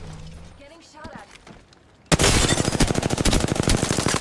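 Rapid automatic gunfire from Apex Legends bursts in abruptly after a quieter lead-in with brief voice chat, continuing as loud, dense rattling shots.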